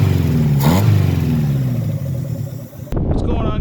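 A Mazda B2200 engine with a newly fitted fuel system and primed carburetor catches and runs at a rough, loud idle close by, then cuts off abruptly near the end, with someone talking over it.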